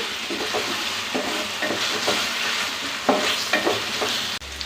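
Ginger-garlic paste and onions sizzle and crackle steadily in a hot frying pan while a utensil stirs and scrapes in repeated strokes, close up with no voices.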